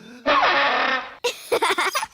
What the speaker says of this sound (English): That's the sparl throttle.